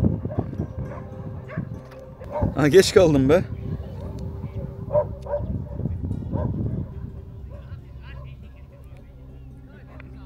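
A pack of dogs barks, yelps and whimpers in a scuffle near the pyramids in Egypt, with a burst of loud barking early on and then fainter yips, under someone talking nearby.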